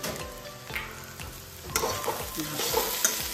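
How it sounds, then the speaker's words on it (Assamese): Fish and bitter gourd stir-fried over a medium flame with coriander leaves and crushed ginger, giving a close, steady sizzle broken by repeated scraping and clattering stirs against the pan. "এনেকৈ লৰাই থাকি মিডিয়াম ফ্লেমত ভাজি থাকিম"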